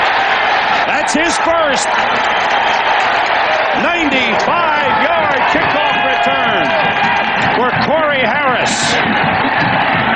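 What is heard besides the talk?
football stadium crowd cheering after kickoff return touchdown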